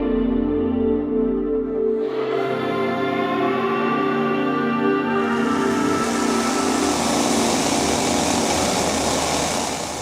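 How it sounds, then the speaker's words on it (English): Two running chainsaws being juggled drone loudly and continuously, their pitch shifting as a second higher, raspier motor joins midway. "One chainsaw here and one chainsaw, it's 6 kilos, and it's running."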